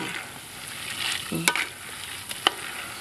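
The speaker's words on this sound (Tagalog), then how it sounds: "Non-stop ang paghalo nito. Haluin ng haluin hanggang sa maluto." A spoon or spatula stirs peanuts roasting in a pan for homemade peanut butter, producing a soft continuous scraping rustle with a couple of sharper clinks near the end.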